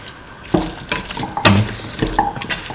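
Potato pieces being stirred into a pot of beef stew with coconut milk, giving a few close scraping, clattering stirs with brief sizzling between them, and no talk.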